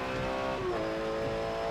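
Race car in Forza Motorsport 7 at Spa, engine droning steadily and then rising in pitch as it accelerates at full throttle, fairly quiet with no voices.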